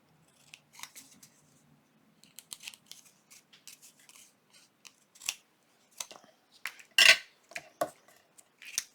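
Scissors trim craft material with a run of sharp, close snips and cuts in an irregular rhythm, with one louder crisp snip near the end. No one talks.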